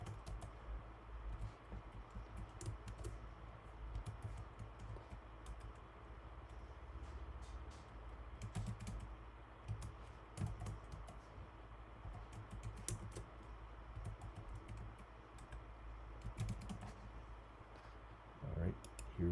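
A password being typed on a computer keyboard, bursts of quick close key clicks spread irregularly through the clip over a low background hum.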